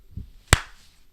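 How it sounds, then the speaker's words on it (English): One sharp hand clap lands close into a microphone, a single loud snap that stands alone against quiet room noise. "Can you clap in your mic actually?"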